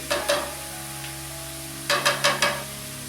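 Beef stroganoff with mushrooms cooking in a pan, a steady close sizzle under a constant kitchen hum, broken by a few quick stirring scrapes at the start and again near the end.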